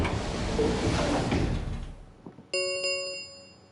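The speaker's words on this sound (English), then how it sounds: "the warehouse was filled with the rumbling sound of the doors sliding shut" Heavy warehouse doors in a video game slide shut with a loud rumbling roar that fades out, followed by a bright chime-like tone as the gates close.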